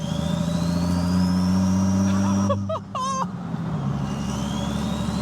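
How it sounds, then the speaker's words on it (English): A loud, steady turbocharged Jeep Wrangler engine with an open exhaust drones close by in fourth gear, with a high turbo whistle rising and falling above it, and a brief voice cuts in midway. "Is this what my Jeep sounds like?"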